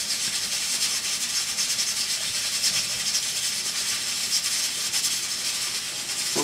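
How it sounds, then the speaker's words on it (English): A pressure cooker cooking pot roast gives off a steady, continuous steam hiss at close range, holding an even level throughout with no pauses and no talking. "Okay, it's steaming away and it's got 5 seconds left to go."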